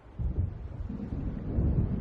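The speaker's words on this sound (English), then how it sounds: "It seems there's a storm coming." In Alan Wake Remastered, low rumbling thunder from an approaching storm rolls in steadily over two seconds, deep and moderately loud with wind noise, no talking.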